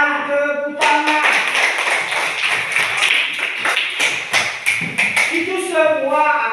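Classroom of pupils clapping hands together in a sustained burst of rapid, uneven claps lasting several seconds, loud and close, with a bit of voice and singing at the start and end.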